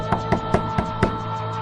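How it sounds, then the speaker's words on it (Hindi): Five sharp knocks on a wooden door in a scary story about a cursed hotel room, evenly spaced and close, with a low steady hum beneath them. "तभी किसी ने दरवाजा खटखटाया।"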